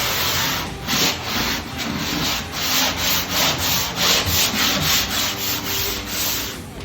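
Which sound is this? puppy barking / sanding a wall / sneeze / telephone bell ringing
sanding a wall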